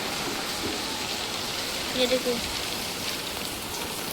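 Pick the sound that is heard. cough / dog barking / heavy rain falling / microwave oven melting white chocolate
heavy rain falling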